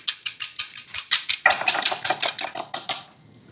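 Eggs with a pinch of salt being whisked in a bowl, a fast, even run of sharp clinking taps that speeds up and then stops abruptly, close and alone without any talking.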